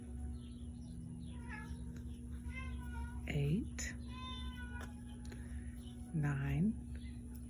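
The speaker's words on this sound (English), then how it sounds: "That's my cat, one of them." A house cat meows twice, several seconds apart, close to the microphone and fairly loud, while a person counts crochet stitches aloud and a steady electrical hum runs underneath.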